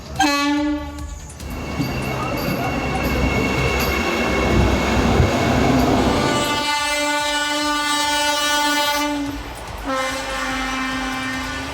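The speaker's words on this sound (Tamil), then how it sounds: "சென்னை காட்பாடி இடையிலான முதல் வந்தே மெட்ரோ ரயிலின் சோதனை ஓட்டம் வாலாஜா வரை மட்டுமே நடைபெற்றது" A new Vande Metro train sounds its horn during a trial run on the Chennai–Katpadi line out to Walajah. Loud sustained blasts open the sequence, a heavy rolling rumble follows, then two further long horn blasts ring out close by.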